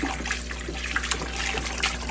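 Dechlorinated water pours and trickles steadily into an aquarium filter compartment as it is rinsed out, a continuous close splashing flow with faint background hum.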